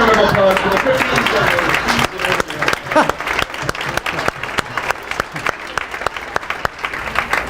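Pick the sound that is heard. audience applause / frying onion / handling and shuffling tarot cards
audience applause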